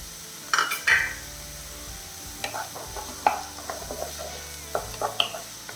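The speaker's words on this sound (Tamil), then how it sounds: "பெரிய வெங்காயம் கட் பண்ணி வச்சுருந்த அவ்வளோமே சேர்த்துட்டேன் மீடியம் ஃப்ளேமில் வச்சு நல்லா வதக்கிடலாம்" Chopped onions sauté in a pan over a medium flame for chicken curry, a soft background sizzle broken by irregular metallic clinks and scrapes of a spoon stirring against the pan, close by and without voices.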